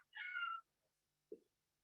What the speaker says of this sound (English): there's a cat in my backyard